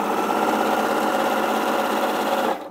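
A sewing machine runs steadily at speed, joining Highland Cow quilt pieces with a fast, even, close mechanical whir that stops abruptly at the end.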